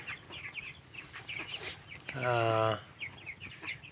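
Broiler chickens, about 22 days old, cluck in short bursts, with one louder, drawn-out call near the middle, heard fairly close against a busy poultry farmyard background.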